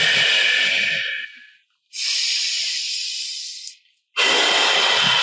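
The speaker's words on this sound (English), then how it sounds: "you're exhaling out through an O-shaped mouth for a count of 8" Slow, steady breaths blown out through a rounded O-shaped mouth in a guided breathing exercise, three long breathy whooshes close to the microphone with short pauses between them.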